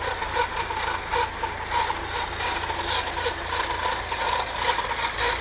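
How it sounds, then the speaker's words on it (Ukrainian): A Zarya walk-behind mower's small engine runs steadily just after starting, a constant mechanical drone with rattling, ticking texture, fairly close and without speech. "Так, запустили косілочку."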